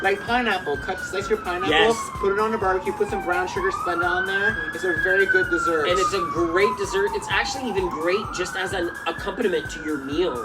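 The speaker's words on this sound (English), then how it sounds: "Sorry about the sirens, everyone. We do live in an area where there's sirens." A wailing emergency siren rises and falls in long sweeps, loud and fairly close, while a person talks steadily over it.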